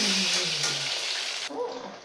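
Breaded pork chop schnitzel frying in a hot pan, a bright continuous sizzle that swells as pieces go in, then thins and drops, heard close with no speech.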